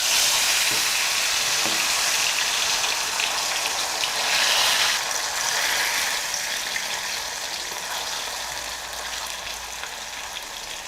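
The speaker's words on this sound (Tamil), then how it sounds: "மிக்ஸ் பண்ணி வச்சுருக்கக்கூடிய உருளைக்கிழங்கு இதில் போட்டு பொரிச்சு எடுத்துடலாம்" Potato slices deep frying in hot oil in an Indian kitchen for chips, a steady loud sizzle and bubbling hiss that runs throughout and eases slightly toward the end.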